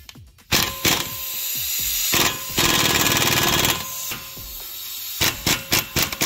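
A 24 chrome socket on a ratchet wrench turning bolts off adjustable dampers on a 2011 Jetta TDI: close, loud ratcheting bursts, long sustained clicking runs in between, and a few sharp metallic knocks at the end.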